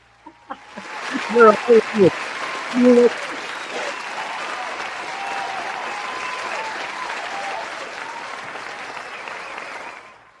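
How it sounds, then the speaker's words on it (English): A played applause effect on a breakfast radio show swells into a broad, even wash of clapping that holds steady then fades, with a few loud voices calling out near the start. "Bring up the applause."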